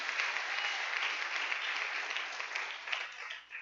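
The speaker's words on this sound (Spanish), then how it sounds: "Dele un aplauso a Jesucristo." A church congregation applauds in honor of Jesus Christ during a sermon, with a dense, steady wash of many hands clapping that holds for the full stretch before tapering slightly at the end; no voices.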